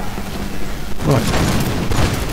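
Musket volleys crackle in a video game firefight between 18th-century line infantry, a loud burst of overlapping shots starting partway through and rolling on as a dense, sustained fusillade.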